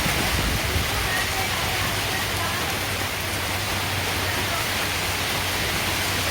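Heavy rain pours down steadily during a storm with strong winds, a dense, even broadband hiss holding constant throughout with a faint low hum beneath it.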